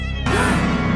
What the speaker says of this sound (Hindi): सफेद बिल्ली रो रही है